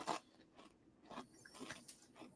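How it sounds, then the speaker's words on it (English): A person eats angel hair pasta with audible crunching, giving several sharp, faint bites and chews in an irregular rhythm, close to the microphone, with no talk. "we can just sit quietly and listen to Keith crunch"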